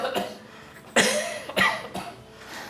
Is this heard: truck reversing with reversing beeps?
no